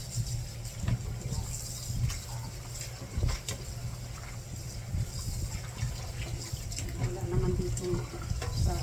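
Baby back ribs are washed and soaked in water in a pan, with steady sloshing and splashing plus intermittent clatter and knocks against the metal, continuous throughout at moderate level.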